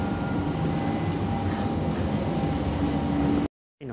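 A London Underground train standing at Hainault station, where the service terminates, gives a steady loud rumble and hum of motors and ventilation that cuts off abruptly near the end.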